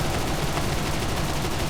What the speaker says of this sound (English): letting loose with our 5 cannons